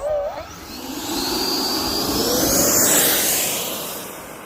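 An RC F-15 Eagle model jet makes a pass overhead, a steady broadband jet whine that swells from a distance, peaks loudly, then starts to fade as it goes by in the open air.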